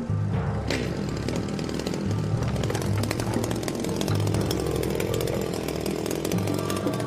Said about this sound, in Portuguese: cortando a rocha com uma motosserra